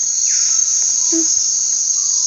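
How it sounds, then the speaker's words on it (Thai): A loud, continuous high-pitched electric buzz drones steadily in a Roblox elevator game, with only faint incidental noises beneath it. "ไฟฟ้าเสียงไฟฟ้านะคะ เราได้ยินเสียงเหมือนไฟฟ้าเนาะ"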